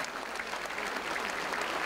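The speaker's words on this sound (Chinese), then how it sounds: "请给掌声" Steady applause from an audience at a Chinese New Year banquet of a Malaysian qigong association, a dense even patter of many hands clapping at moderate, slightly distant volume for the whole stretch.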